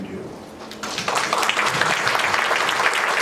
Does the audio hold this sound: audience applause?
yes